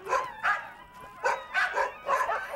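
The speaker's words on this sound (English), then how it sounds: "one of his true passions, his dogs" Sled dogs from an Iditarod musher's kennel bark and yip in a chorus of around six sharp, high calls in quick bursts, moderately close, with no talk.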